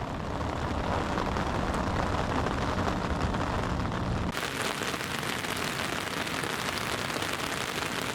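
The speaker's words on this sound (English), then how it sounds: "here comes the rain" Rain drums steadily on a carp angler's bivvy, a dense, continuous patter that swells louder and brighter partway through as the downpour intensifies, with wind behind it and no talking.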